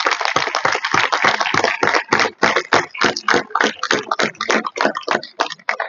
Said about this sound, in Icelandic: ég ætla að biðja að gefa Karlakórnum okkar gott klapp líka